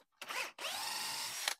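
A power drill spins a sharpened bit at high speed into wood, a loud close whine in two bursts separated by a brief pause.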